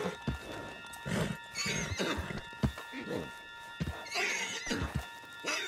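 In the video game Red Dead Redemption 2, a horse whinnies several times over a clatter of hooves, with brief voices mixed in, all at close range.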